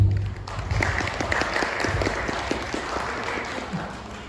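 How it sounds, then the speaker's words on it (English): An audience at an information architecture event in Toronto applauds a speaker, steady dense clapping filling the room for several seconds at moderate loudness. "Another round of applause, please"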